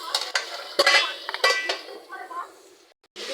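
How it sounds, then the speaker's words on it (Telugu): A spoon stirs ginger garlic paste into an ivy gourd curry in a pot, giving a few loud scraping clinks against the metal followed by softer stirring, close by. "అల్లం వెల్లిపాయ వేసుకొని మంచిగా ఇట్లా కలపాలి."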